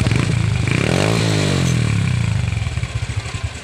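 A motorcycle fitted with an Apido pipe idles close by with a smooth, quiet engine note. The engine revs briefly partway through, then settles into a steady putter of exhaust pulses.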